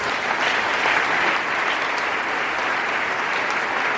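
A church congregation applauds steadily and warmly for a clergyman, dense clapping filling the space at an even, sustained level with no break throughout.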